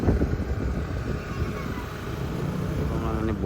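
A boat ride on open water with steady engine drone and heavy wind buffeting the microphone, a continuous loud rumbling wash with faint voices beneath.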